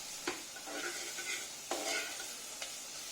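Onions frying in a pressure cooker, with a steady low sizzle broken by a few sharp stirring scrapes; close and fairly quiet, no talking.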